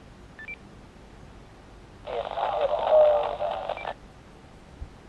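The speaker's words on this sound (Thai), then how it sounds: "เสียงเปิดเครื่องครับ" A genuine Icom IC-V80 handheld radio switches on with a short pair of faint tones, then a louder, sustained, buzzy electronic tone lasting about two seconds, heard close and alone with no talking.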